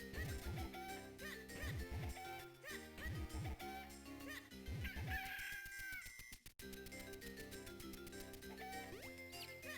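A chicken in the Zelda: The Minish Cap video game clucks and squawks in a few quick bursts over bright, busy game music and chiming effects.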